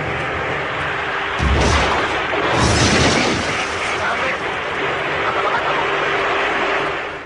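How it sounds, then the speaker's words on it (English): Two loud, heavy booms in quick succession, one right after the other, over a steady background roar, on the cockpit voice recorder of Japan Air Lines Flight 123. "there were two loud explosions, one right after the other"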